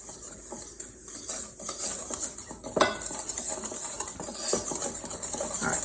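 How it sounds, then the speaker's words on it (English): A whisk stirs a dry flour mixture with kosher salt in a bowl for milk bread, producing quick, rhythmic metallic ticking and scraping that grows a little louder and busier. "And then some kosher salt. There we go. And we have to whisk this together."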